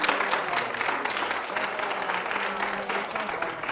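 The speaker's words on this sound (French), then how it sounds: "il faut les acclamer, les applaudir quand ils font les défis" A television studio audience applauds continuously, a dense, even roar of clapping hands with some crowd noise carrying on throughout.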